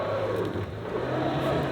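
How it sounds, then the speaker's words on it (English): A RAM 1500 pickup truck engine pulls under throttle, giving a continuous, fairly loud mechanical drone with a slight rise and fall in pitch, heard up close with no speech. "so I'll just lean onto the throttle"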